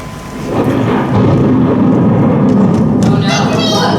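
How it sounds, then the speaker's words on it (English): A thunderstorm with a deep rolling rumble of thunder swelling early and holding loud, with rain hissing steadily beneath it throughout. "You're not afraid of a thunderstorm, are you?"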